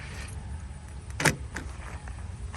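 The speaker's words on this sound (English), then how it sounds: "Maybe if I unlock the door," A truck door is unlocked with keys, giving a brief metallic jangle and click up close over steady low vehicle rumble, with no talking.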